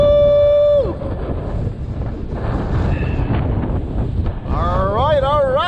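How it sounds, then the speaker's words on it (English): Strong wind buffets a DJI Mavic Mini drone flying in sport mode over sand and water with big waves, a loud steady roar from start to finish while a person shouts excitedly and a whining tone comes and goes. "Extreme wind. Look at that. First extreme wind."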